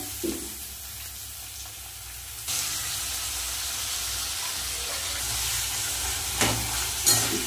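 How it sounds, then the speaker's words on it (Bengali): Onions frying with fish oil in a pan for a fish-oil kalia, a steady broadband sizzle that jumps louder partway through and carries on, with a few brief clatters near the end and no talking. "পেঁয়াজের মধ্যে দিয়ে দেব মাছের তেলগুলো।"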